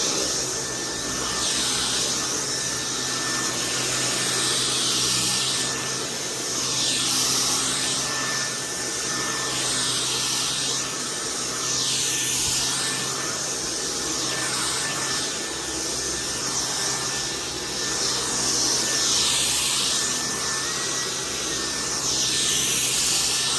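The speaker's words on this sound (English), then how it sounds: "This is how the Dyson works." A Dyson V10 cordless stick vacuum cleaner runs continuously, a loud, close, high-pitched whirring hiss that swells and eases slightly as it moves across the floor, with no talk.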